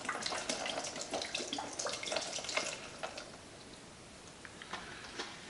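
Water is poured from a jug into a plastic container, a soft splashing trickle with irregular droplet ticks, fairly quiet, easing off toward the end with no talking.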